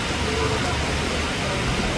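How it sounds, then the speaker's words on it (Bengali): Heavy rain falls steadily in a Bangladeshi village, a dense, even hiss of drops that holds at one level without a break. "যে বৃষ্টি যে শুরু হয়েছে হয়েছেই তো শেষ হওয়ার কোনো নামই নেই শুধু পড়তেই আছে"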